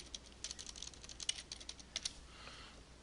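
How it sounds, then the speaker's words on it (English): Computer keyboard typing, a quick faint run of soft key clicks in uneven rhythm with a few louder taps, heard alone in a quiet room. "I'm just going to type in basketball"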